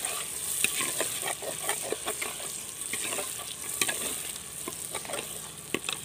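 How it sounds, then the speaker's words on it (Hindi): Tomatoes hit a hot pan of frying dal mash, setting off a steady, close sizzle with soft stirring scrapes and small crackles and spits throughout, and no voices over it. "अब मैं ये इसमें टमाटर डाल रही हूँ।"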